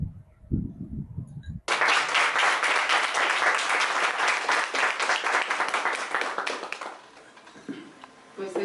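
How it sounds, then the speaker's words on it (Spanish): Audience applause after a book presentation, with a voice speaking briefly before a sudden, loud burst of many hands clapping that holds steady for several seconds, then thins and fades as talk resumes. "este aplauso le llegará a través de video a Luis en próximos días."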